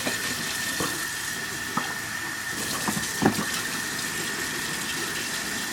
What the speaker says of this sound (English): Finger in there, get all of that out of there. Wash all that dirt through.